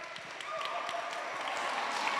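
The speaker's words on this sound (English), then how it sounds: "Round of applause for Jay." Audience applause for a sixth-grade volunteer invited on stage, a dense run of clapping that builds quickly and holds steady at moderate loudness.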